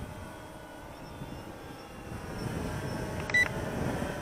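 A Bayangtoys X16 brushless GPS drone flying outdoors in a breeze gives a steady, fairly distant motor whine over wind rumble, with one short electronic beep near the end.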